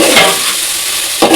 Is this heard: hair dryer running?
no